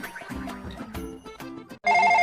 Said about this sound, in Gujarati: ઉભો રે ભાઈ, ફોન આવ્યો.